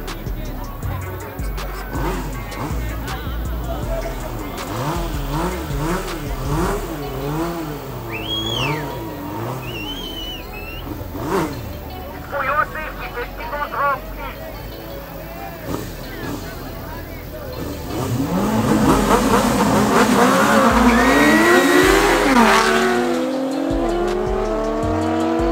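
A Nissan GT-R R35 drags against a Suzuki K7 1000 motorcycle at a night drag-racing meet, engines revving and tires squealing as they launch and pull away, loud toward the end, with a commentator talking over much of it.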